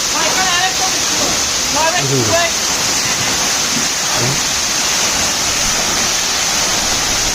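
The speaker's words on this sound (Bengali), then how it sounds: "এই ঝর্ণার নাম হচ্ছে কার্সিয়া ঠিক আছে কার্সিয়া ঝর্ণা এটা" Karsia waterfall, also called Murung waterfall, roars loud and close in a constant heavy rush, with a voice talking briefly over it early on.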